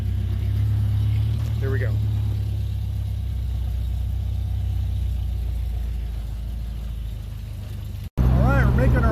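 An old car's engine rumbles low and steady while driving on a freezing cold day, running a little rough, with someone talking briefly over it and a short break near the end before it resumes louder.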